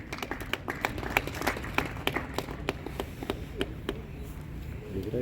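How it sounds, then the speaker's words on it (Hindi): Scattered audience applause at a Mudra Loan scheme programme at an SBI zonal office, with distinct individual claps in a loose rhythm, moderately distant and fairly faint. "तालियां रुकनी नहीं चाहिए,"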